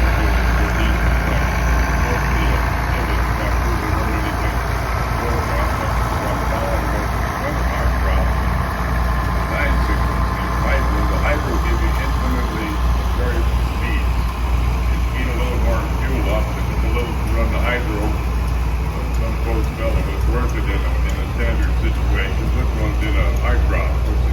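A 1945 tractor engine runs steadily throughout at a summer threshing show in Madison, South Dakota, a constant low rumbling idle with a faint rhythmic chug, loud and close, with no pauses.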